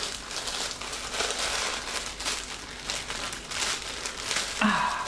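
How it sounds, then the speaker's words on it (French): Small crinkly plastic sticker packets being worked open by hand, a close run of papery crinkles and crackles with a short sharper tear near the end. "J'adore ces petites pochettes, mais qu'est-ce qu'elles sont dures à ouvrir!"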